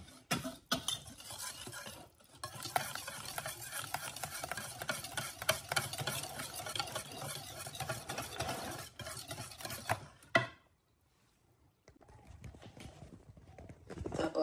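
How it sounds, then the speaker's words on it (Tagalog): Macaroon mixture stirred thoroughly in a bowl, a busy run of scraping and clinking strokes lasting about ten seconds before a brief pause, then softer movement resumes. "Tapos, hahaluin natin mabuti para ma-dissolve."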